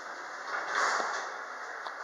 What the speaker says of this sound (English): Some really slamming door equipment, which are Johns Perry sensor.